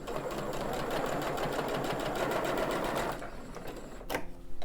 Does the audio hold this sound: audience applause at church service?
no